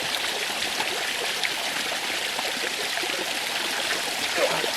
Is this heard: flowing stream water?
yes